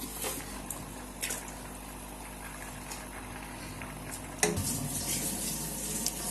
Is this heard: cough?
no